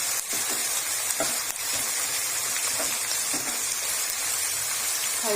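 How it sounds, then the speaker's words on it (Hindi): Potatoes and moringa pods frying with salt, red chilli and turmeric in a pan, giving a steady, loud sizzle with crackling and occasional stirring scrapes throughout. "हमने 2 मिनट के लिए इसको भून लेना"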